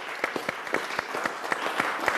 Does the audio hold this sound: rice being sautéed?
no